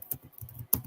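A computer keyboard being typed on, several quick clicks in short irregular bursts, close and fairly quiet, with pauses between strokes and no speech.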